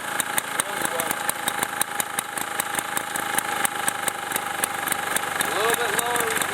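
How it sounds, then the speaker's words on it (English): A Super Bagger lawn mower engine with a finely tuned carburetor idles smoothly in a steady, rapid putter, close and continuous, as someone talks over it. "I got the carburetor very well tuned on this machine. It's just amazing how good it idles."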